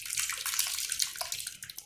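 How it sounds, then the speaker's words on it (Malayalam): Cooked pumpkin and lentils for Kerala erissery pour into a pan with a bright, continuous wet splashing and sloshing, close and fairly loud throughout. "മത്തങ്ങയെല്ലാം ഇതിലേക്കൊന്ന് ഒഴിച്ച് കൊടുക്കാം."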